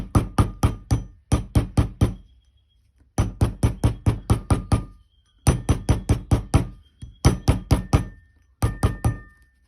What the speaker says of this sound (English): I'm giving this a good hammer, as you can see.